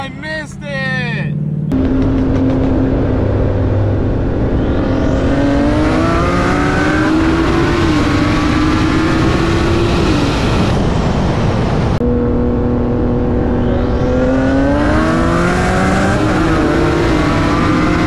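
A turbocharged Nissan 370Z and a BMW M240i street race, engines roaring close and loud as they climb through the revs, with a shift and a second hard pull, over wind and some talking.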